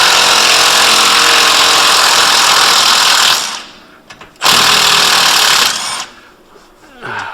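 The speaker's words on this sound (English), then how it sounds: "we're using the medium boy impact wrench first" Impact wrench on a GTO's suspension bushings, loud sustained rattling bursts: a long run, a brief stop, a second run, then a short final burst.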